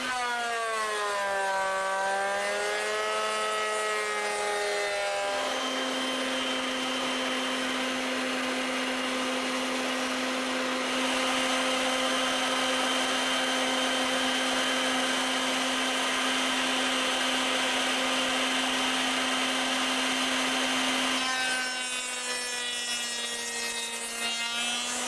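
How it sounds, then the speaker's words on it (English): A wood router cuts a dado into a board for a beehive bottom board, giving a loud, steady, high motor whine that holds for most of the stretch, with the pitch shifting slightly as the bit runs and no talking. "I was just setting up my router to cut the proper depth on this."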